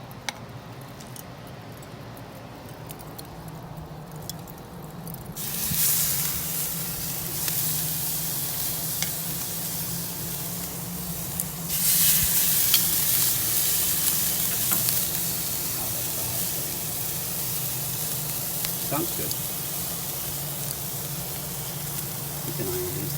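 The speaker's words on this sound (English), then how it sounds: "Time to sear some steaks." Steaks sear on a Louisiana Grills kamado charcoal grill, giving a steady, loud close sizzle and crackle that swells as meat hits the hot grate, with a brief spoken remark over it.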